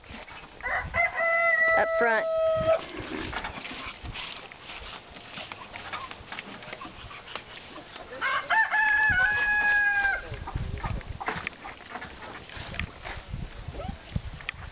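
Rooster crowing loudly twice with harmonic calls, and some clucking, during a chase outdoors near a truck; people shout and talk throughout amid scuffling movement.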